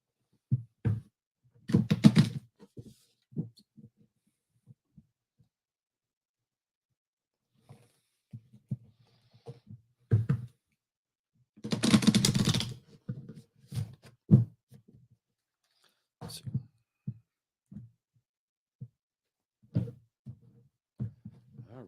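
Tarot cards are shuffled by hand in two short, crisp bursts of papery riffling about ten seconds apart, with scattered soft taps and handling noises between them.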